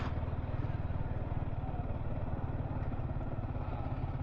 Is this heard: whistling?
no